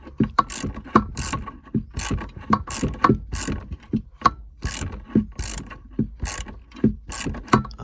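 Repeated ratcheting clicks from a 12 mm wrench tightening the handbrake adjuster on a Honda Accord, coming in quick, fairly close bursts of metallic ticks throughout.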